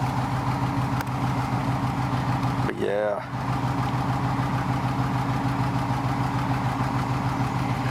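Chevrolet K30 Forest Service truck engine idling steadily with a low, even rumble and a suspected exhaust leak, running continuously throughout while someone speaks briefly over it.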